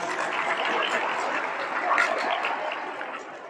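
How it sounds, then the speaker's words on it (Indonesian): Audience applause at a school motivation training session, a continuous wash of many hands clapping at moderate loudness throughout, with faint voices underneath. "Tepuk tangan buat kalian semua."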